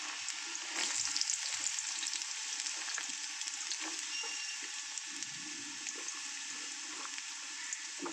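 Chopped garlic, carrots and beans sizzle in hot oil in a wok, giving a steady, close, hissing fry with faint stirring scrapes.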